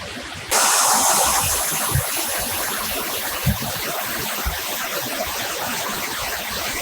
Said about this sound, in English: Great waterfall.